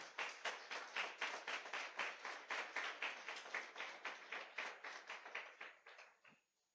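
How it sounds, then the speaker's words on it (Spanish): A church congregation claps in unison during a Lord's Supper service, a steady rhythmic beat of about three claps per second that carries on for several seconds before stopping abruptly. "Dele ese aplauso al Rey"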